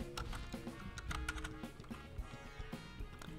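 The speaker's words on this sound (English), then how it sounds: "So I will type it as diameter" Keystrokes on a computer keyboard while entering a value into Autodesk Inventor CAD software, a quick irregular run of close, light clicks with no talking.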